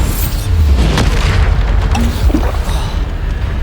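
Bombarda explosion spell cast in Hogwarts Legacy, a loud deep boom with rumbling low end and brief crackling bursts, close and heavy, fading slightly after.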